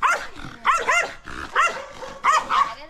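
A dog barks and yips in four short bursts, loud and close, with whimpering tones between the barks.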